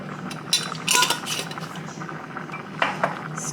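A spoon scrapes and clinks inside a pot as thick starch soup with potatoes and barley is stirred, making scattered metallic taps and soft sloshing at close range.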